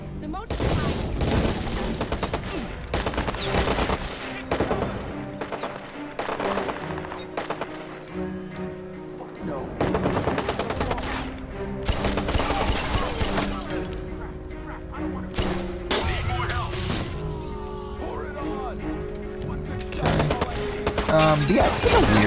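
Gunfire aimed at the player in Watch Dogs, dense bursts of shots and crashing impacts going on throughout, with game music and a voice talking over the top.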